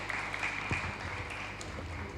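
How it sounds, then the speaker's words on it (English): An audience at a Peace Corps swearing-in ceremony in Samoa applauds its new Group 95 volunteers, a steady, moderately loud patter of many hands throughout. "How about another round of applause for our new volunteers?"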